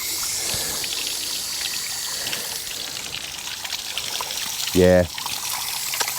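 Water trickling and pouring as it is flushed through the cooling system of a Thorneycroft BMC 1.8 marine engine, a steady close stream of liquid with a brief spoken word near the end.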